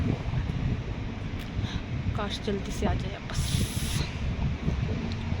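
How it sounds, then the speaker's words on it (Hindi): Strong wind blows outdoors beside a road during a storm while someone waits for a bus, a steady rushing roar of wind noise that runs under a woman's speech the whole time. "यहाँ इतनी हवा चल रही है"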